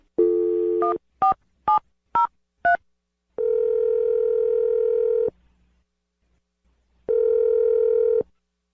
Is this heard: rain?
no